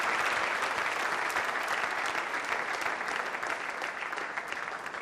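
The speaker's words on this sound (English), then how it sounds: "Please give her a round of applause." Audience applause at a 2019 event, steady dense clapping from a sizable crowd, loud and sustained throughout with no talk over it.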